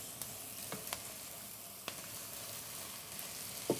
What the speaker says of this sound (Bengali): আমাদের মাংসটা এখন দিয়ে দিচ্ছি। মাংসটা ভাজা হবে